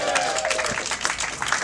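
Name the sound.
applause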